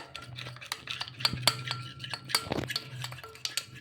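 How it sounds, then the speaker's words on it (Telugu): A spoon stirs a maida flour mixture in a bowl for paratha dough, making quick scraping strokes and clinks against the side. The sound is close and fairly quiet, with an uneven rhythm and no voices. "ఒకసారి బాగా కలిపేసుకోవాలి అంతా కూడా కలిసేలాగా"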